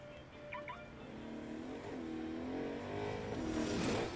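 Car driving in the Agents of Mayhem video game, an engine revving and rising in pitch through several gear shifts, growing louder toward the end.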